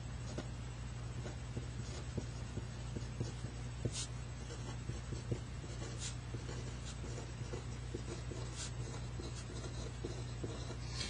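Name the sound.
writing notes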